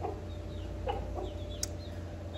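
Domestic roosters cluck in a few short, soft bursts over a steady background hum, with faint chirps from other birds nearby.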